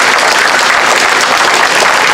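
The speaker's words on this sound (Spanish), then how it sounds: "pedimos un aplauso muy fuerte" Loud, continuous crowd applause at an outdoor political rally for a party leader in Azcapotzalco, Mexico City, a steady dense roar of clapping from many people close to the microphone.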